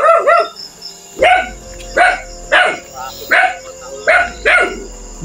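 A dog near a river at night barks in a regular series of about six sharp, loud, close barks, evenly spaced with short pauses between them.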